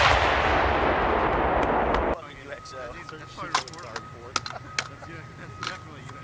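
An AT4-CS recoilless anti-tank weapon fired by soldiers on a range, a heavy roaring blast that holds loud for about two seconds, then cuts off into clicks and handling noise with voices nearby.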